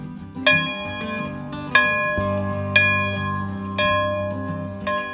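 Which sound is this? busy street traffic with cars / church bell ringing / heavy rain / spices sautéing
church bell ringing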